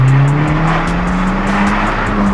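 Audi S3 accelerating, a loud close engine note rising steadily in pitch under a strained, gritty roar, continuous with no speech.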